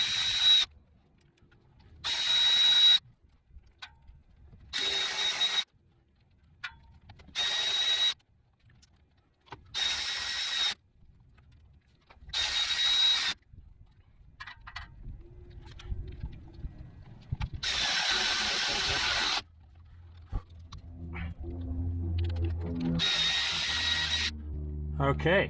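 A power ratchet drives bolts into a MetalCloak skid plate on a Jeep JL Rubicon, with a string of short, close whirring bursts separated by brief pauses and some light clanking between them.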